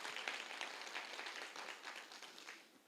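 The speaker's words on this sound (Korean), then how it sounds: "우리 한번 위로의 박수를, 좀 박수가 좀 약한데 좀 세게 한번 쳐줘보세요" Church congregation at a Friday prayer meeting clapping together for a missionary, a soft, even patter of many hands held for a few seconds.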